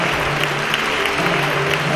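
Wedding guests applauding a newly married couple, a dense, continuous burst of clapping from a gathered crowd, brief and loud with a low hum underneath.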